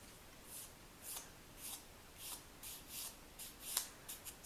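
An emery board or nail file rubbed along the edges of a paper candy corn cutout, producing short, soft, rhythmic scratchy strokes, close and quiet, repeated about a dozen times.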